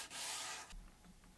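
A wood surface being sanded by hand, a dense scraping rasp lasting about two-thirds of a second before dropping to quiet, with faint rubbing strokes after.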